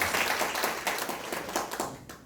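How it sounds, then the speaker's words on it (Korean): An audience at a church seminar sermon bursts into dense, continuous applause that carries evenly, then thins toward the end of the short burst. "아주 잘 박수 한번 하겠습니다"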